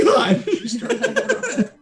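Harsh, repeated coughing fits, as from stirred-up ashes, a rapid run of short bursts that blend with laughing, close and fairly loud throughout.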